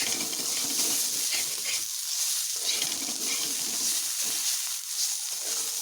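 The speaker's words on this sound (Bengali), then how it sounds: "আমি আরও একটু ভালোভাবে ভেজে নেব" Pointed gourd peel frying in a pan, a steady bright sizzle throughout with soft stirring scrapes underneath, close and continuous, no talking.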